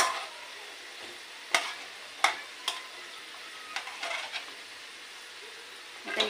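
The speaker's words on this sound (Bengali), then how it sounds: "এই যে 3টে দিয়ে নাড়াচাড়া দিয়ে মাখিয়ে নিয়ে তারপর আবার দিয়ে দেবো।" Rice-flour leaf pitha being stirred and coated in warmed sugar syrup, with soft wet scraping and a few sharp utensil knocks against the pan over a faint sizzle, close by and without talk.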